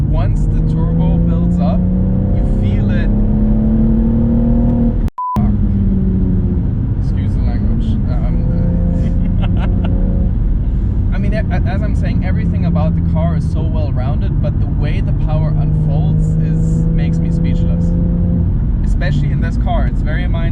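A BMW M135i's turbocharged engine pulls hard toward peak power just below 6,000 RPM, a loud sustained droning note climbing in pitch, briefly cut by a dropout before carrying on under continuous talk from inside the car.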